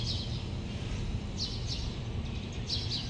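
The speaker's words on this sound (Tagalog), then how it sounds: "Nagde-date lang yung dalawang ibon." Birds chirp outdoors in short, bright bursts that come and go a few times over a steady low background rumble, fairly faint and with no talking.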